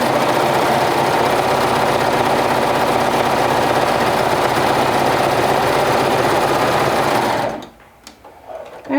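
A sewing machine hemming a sleeve, with the sleeve tucked inside the presser foot, runs at a steady fast whirr, close and loud for about seven seconds, then stops, leaving quiet handling clicks.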